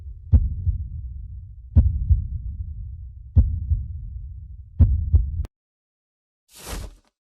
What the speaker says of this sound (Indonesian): Karena jantungmu deg-degan ya.